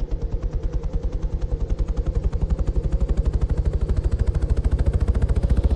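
Helicopter in a military co-op video game, its rotor chopping in a steady, fast, loud rhythm that holds for the whole stretch and builds slightly toward the end.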